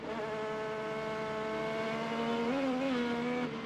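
Onboard an IndyCar racing at the 2015 Detroit Grand Prix, the engine whines in a steady high-pitched tone, dipping and rising briefly near the end, with no voices present.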